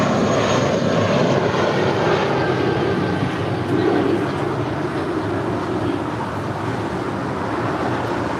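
SkyWest jet on its takeoff roll from runway 25 right at LAX, a steady, loud engine roar that holds throughout and eases slightly toward the end, alone without talk.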